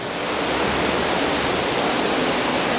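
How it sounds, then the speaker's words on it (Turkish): Spring water rushes beneath a walkway platform inside a cave in Zonguldak, a steady, dense, close roar of flowing water with no voices. "yürüdüğümüz platformun altından az önce gösterdiğimiz o su kaynağı akıyor"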